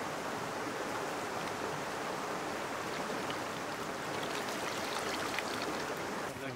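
Cold creek water flowing at an outdoor film location, a steady broadband rush and gurgle that carries on without a break for several seconds, with no clear voices over it.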